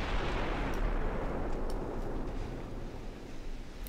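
Heavy naval guns roar from Japanese dreadnought battleships in a strategy game battle, a dense, rumbling wash of distant booms and blasts that stays loud throughout and then slowly fades.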